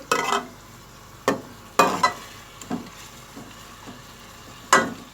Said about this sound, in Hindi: गोश्त को हम अदरक लहसुन के पेस्ट और प्याज के साथ इसको हम भूनेंगे।